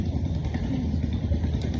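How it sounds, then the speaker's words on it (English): A small boat's motor chugs steadily nearby on the water at the floating village of Kampong Phluok in Cambodia during the rainy season, a continuous rough, rattling drone with no talk. "I hear the boat everywhere."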